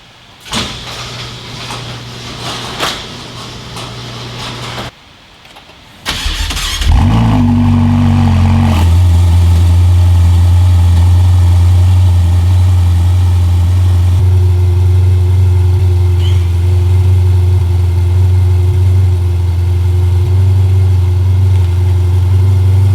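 A car, nicknamed the Sturmobile, parked beside a charger that keeps faulting: a door opens and shuts, the starter cranks briefly, then the engine catches into a loud, steady low idle heard close and without talk.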